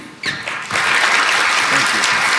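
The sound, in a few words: applause for new Patriots head coach Mike Vrabel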